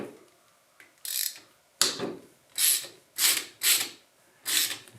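A 21 mm ratchet works on the base of an injector on a John Deere 755 tractor, making about six short, loud bursts of rapid metallic clicking with brief pauses between strokes, heard close up and without speech.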